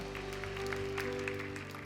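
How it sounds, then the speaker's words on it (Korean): A church youth leadership retreat congregation claps in encouragement, faint and somewhat distant, over a steady sustained musical tone from instruments or a keyboard. "우리 서로에게 격려의 박수를 보내주시겠습니다."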